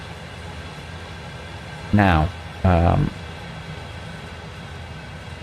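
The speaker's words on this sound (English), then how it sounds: "We're not going to wander down there while that train's coming past." A train rolls past at Horseshoe Curve near Juniata in Train Sim World 2, a steady, broad rumble that holds throughout while someone speaks briefly over it.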